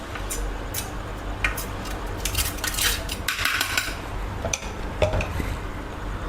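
A steel plate handled in a kitchen while being greased with ghee for mango papad, with scattered close metallic clinks and scrapes of utensils against the plate.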